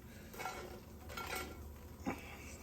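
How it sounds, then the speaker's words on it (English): A spoon scraping and clinking against a pan while homemade chicken nuggets are stirred around, soft metallic scrapes over a steady low kitchen hum, close and fairly quiet. "Let's stir them around a bit."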